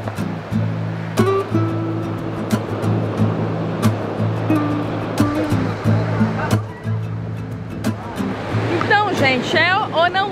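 Ocean waves break on a beach at Fernando de Noronha in a loud, continuous roar of surf, with people talking nearby and some brief knocks over the water noise.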